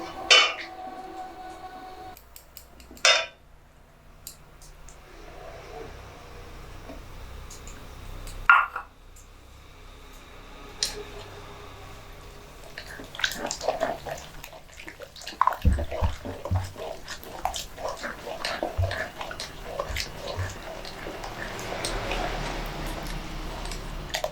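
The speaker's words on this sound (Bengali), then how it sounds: "এবার এর মধ্যে আমি ময়দাটা দিয়ে ভালো করে ফাটিয়ে নেব" Flour being beaten into sugar-sweetened milk in a bowl: a few sparse clinks at first, then a busier run of scraping and tapping utensil noise through the second half, with no speech.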